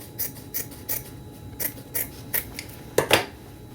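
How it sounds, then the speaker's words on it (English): Scissors snip through folded fabric in a steady series of about ten crisp, close cuts, evenly spaced, with the last two louder. "So I'll just fold it in half and cut."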